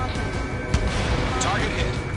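In the Ace Combat 7 jet combat game, a missile launches and explodes as a short thump among rumbling engine noise, under continuous radio chatter.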